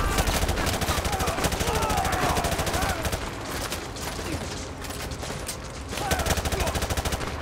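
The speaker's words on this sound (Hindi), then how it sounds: "भाई गंदी लेवल की फायरिंग कर रही है" Sustained machine-gun fire from Call of Duty Modern Warfare 2 Remastered, rapid continuous bursts that ease off briefly midway and then resume loudly, with a person talking over the shooting.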